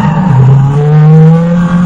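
A racing car engine in the Need for Speed video game drones loudly and steadily, its pitch rising smoothly as the car accelerates, close up with no voices.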